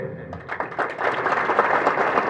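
An audience at a World Indigenous Day gathering in India claps, a short burst of scattered applause building from a few hands to a fuller crowd.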